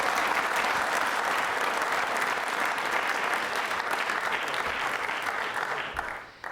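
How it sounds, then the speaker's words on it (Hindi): Audience applause at a quiz show for trainee state civil service officers, a dense sustained clapping from a large crowd that holds steady and then fades out near the end. "इस जानकारी के लिए भी बजा सकते हैं तालियां आप।"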